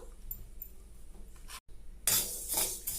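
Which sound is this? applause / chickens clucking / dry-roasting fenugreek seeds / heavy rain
dry-roasting fenugreek seeds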